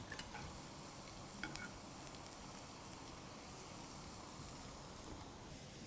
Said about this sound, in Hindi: गरम तेल में हम डालेंगे बारीक कटा हुआ लहसुन।